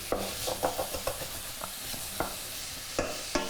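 Food browns in a pan for a Filipino jackfruit curry, with a soft steady sizzle broken by a few sharp scraping stirs at irregular intervals.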